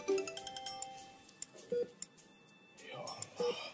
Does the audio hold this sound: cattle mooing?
no